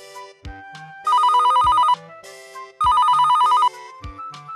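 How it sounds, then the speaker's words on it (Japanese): An old-style telephone bell in the Dragon Quest Parade video game rings in two loud, evenly spaced trilling bursts over light, bouncy game music. "電話、電話。"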